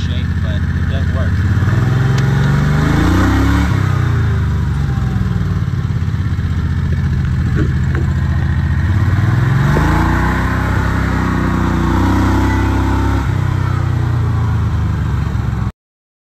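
A Predator 670 V-twin golf cart engine idles steadily at high idle, a continuous loud mid-pitched rumble with slight waver, running alone for the whole stretch and cutting off at the end.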